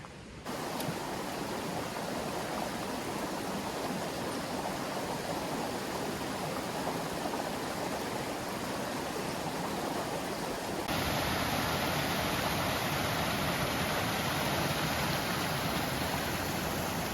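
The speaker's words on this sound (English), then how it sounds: "there will be even more water pushing out from the waterfall" Waterfall swollen by last night's rain at the Walls of Jericho in northern Alabama, a loud unbroken rushing roar of falling water that grows slightly louder partway through.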